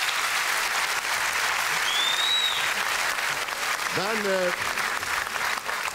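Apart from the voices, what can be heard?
studio audience applause for the jury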